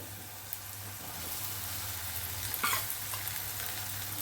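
Bitter gourd fries in a pan with spices, giving a steady close sizzle, with stirring scrapes and a brief burst of louder crackle midway, under a faint low hum.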